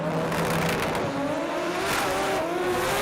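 Drag race cars, Pro Compact sports compacts side by side at an Australian drag strip, roar hard under throttle, their engine notes rising steadily in pitch as they accelerate, loud and continuous with a brief lift before powering on.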